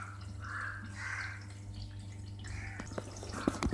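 Water trickles and drips onto clothes inside an LG 6 kg fully automatic front-load washing machine as the drum fills, a soft steady wash with faint clicks and drips near the end.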